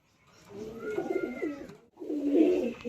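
Pigeons of the High Flying Madrasi breed in a loft in Uluberia, Howrah, give soft, throaty coos. Two close, continuous phrases are separated by a short pause, with no talking over them.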